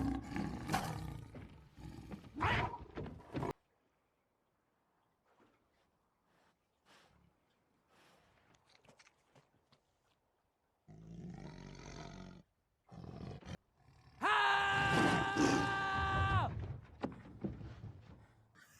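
A tiger from Life of Pi, stranded at sea with a survivor, lets out a loud, drawn-out roar toward the end, after stretches of other loud sounds and quiet gaps.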